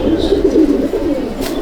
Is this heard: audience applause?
no